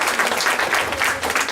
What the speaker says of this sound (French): Un grand applaudissement.